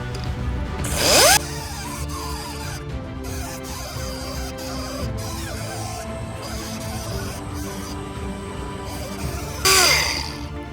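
A dual action sander runs steadily on a resin model for about ten seconds, a close mechanical whir with bursts of louder hiss at its start and end.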